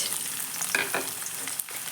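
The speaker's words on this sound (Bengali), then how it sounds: "পেঁয়াজ কুচিটা দিয়ে একটু হালকা করে ভেজে নেব" Chopped onion sizzles softly in oil with cardamom, clove and cinnamon, a quiet steady hiss broken by a few brief bursts of crackling as it is stirred.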